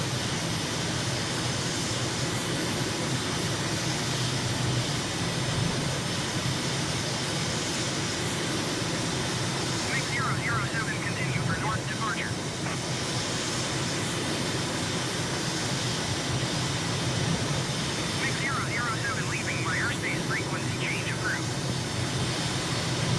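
A MiG jet in a flight simulator game, banking over the edge of Tashkent town: a steady, even engine roar runs throughout at a moderate level, with faint chirping bursts now and then.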